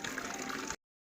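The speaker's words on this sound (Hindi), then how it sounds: "एक बार मैं भर लूँ देखो ताज़ा पानी।" Fresh water rushes into a container as a brief, steady hissing gush, fairly soft and close, then stops abruptly into silence.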